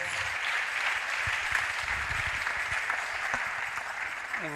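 A church congregation applauds the Lord during a French-language service, with steady, dense clapping that holds evenly throughout.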